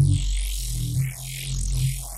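Modulated synth growl or reese bass patch built in FL Studio, with a deep sustained low drone and a sweeping, wobbling upper texture that rises and falls, heard alone for about two seconds.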